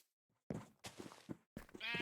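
Sheep bleating in the Minecraft video game, several separate wavering bleats at close range, with a short gap of silence between them.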